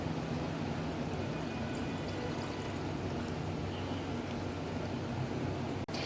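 Chilled water poured into a lemon-slice detox drink, a steady broadband liquid rush running unbroken for several seconds with no voices, ending in a brief sharp knock near the close.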